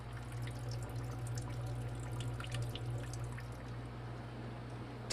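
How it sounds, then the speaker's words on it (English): Rum tumbles from a spout into a blue barrel at a distillery, a quiet, steady trickle and splash like a small babbling brook that continues without pause. "What you're listening to, it's very quiet, is the sound of rum."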